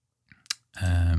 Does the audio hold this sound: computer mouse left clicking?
yes